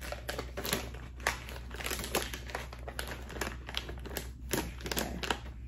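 Tape being pulled and pressed while packets of pumpkin seeds are fastened to a fall gift basket, giving close, irregular crinkling and crackling rustles with sharp little bursts, no voices over it.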